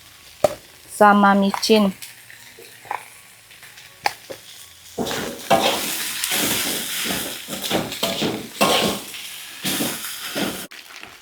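Minced pork frying in a pan as it cooks down until dry and fragrant, a steady close sizzle and hiss with stirring clatter, under a voice talking near the start.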